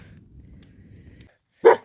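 A single loud dog bark rings out at a woodland bushcraft camp, a short sharp burst following a low steady rumble of background noise.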